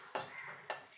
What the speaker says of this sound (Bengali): এবার লঙ্কাগুলোকে একটু ভেজে নেব